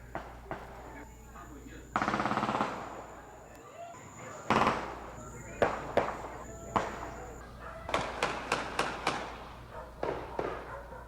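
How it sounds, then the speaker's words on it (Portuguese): Bursts of gunfire at night in Mangue Seco, a series of sharp, loud bangs, some isolated and some in rapid bursts, over a low constant hum, with faint voices in the background. "Rajadas de tiros assustaram quem mora na região de Mangue Seco."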